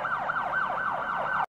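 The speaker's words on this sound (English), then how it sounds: "Police car." A police car siren in a children's vehicle cartoon wails up and down in quick regular cycles, loud and alone for about a second and a half before cutting off abruptly.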